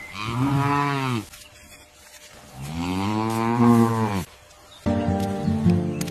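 A calf moos in two long, loud, drawn-out calls close by, then starts a third, with no talking.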